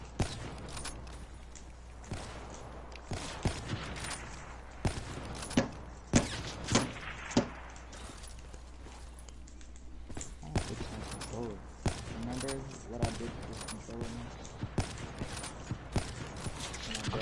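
Gunfire in the video game Black Ops 3 sounds as sharp, scattered shots and short bursts spread over the stretch, with clanking game effects and players talking over the action.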